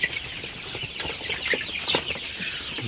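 Many Sonali hybrid chickens in a poultry shed clucking and squawking together in a dense, continuous chorus, close up, with no voices.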